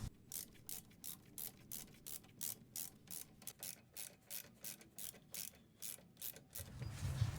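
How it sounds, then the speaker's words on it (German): A ratchet socket wrench tightens brake caliper bolts on a Mercedes W124 300TD with a 13 mm socket, giving a steady, close run of about eighteen even clicking bursts with no talk. "Die Schrauben sind drin, jetzt werden sie angezogen. Dafür benutze ich den Maulschlüssel, Schlüsselweite 15 und den Steckschlüssel,"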